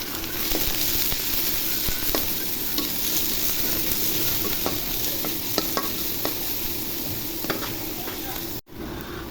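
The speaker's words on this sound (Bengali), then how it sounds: "এখন ভর্তার জন্য পেঁয়াজ ভেজে নিব" Onions frying in hot oil for a spicy dry-chilli potato mash, giving a steady loud sizzle with frequent scrapes and clinks of a stirring spoon throughout.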